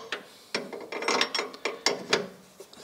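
Ratcheting wrench loosening bolts on a race car's brake master cylinder at the pedals, a series of sharp metallic clicks and short ratchet bursts up close, with no talk.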